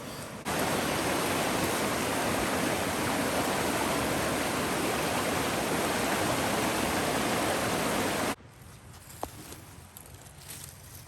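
River water rushes loudly and steadily just below a dam after a release, a dense continuous roar that drops to a quieter flowing wash near the end.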